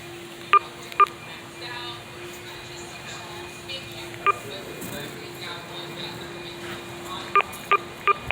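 Telephone keypad tones beep as a call is dialed: a few separate, evenly pitched beeps spaced irregularly over several seconds, with a faint steady tone and low background hum between them.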